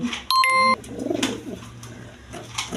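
Lahori and high-flying Giribaz pigeons with their chicks coo in a low, throaty murmur at a pigeon seller's, with a short steady electronic beep near the start and soft rustling throughout.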